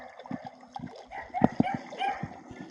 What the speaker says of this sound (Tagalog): Kasi nagtatahulan ng aso dito